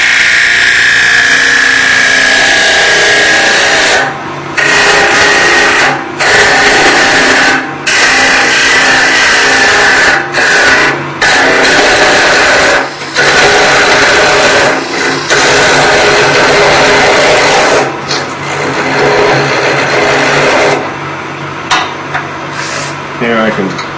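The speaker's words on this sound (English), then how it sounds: "Here I can roll the tool over, rub the bevel and cut." A woodturning tool cutting a spinning piece on a lathe, a loud continuous rushing scrape with repeated brief dropouts as the tool lifts off and bites again.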